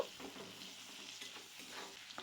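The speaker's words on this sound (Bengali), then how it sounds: "দিয়ে দিলাম কুচিয়ে রাখা পেঁয়াজ পেঁয়াজটাকেও দু মিনিটের মতো ভেজে নেব" Chopped onions frying with browned potato pieces in a hot pan, giving a steady close sizzle with light stirring scrapes throughout and no voices.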